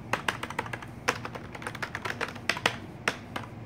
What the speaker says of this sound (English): type real fast for 3 seconds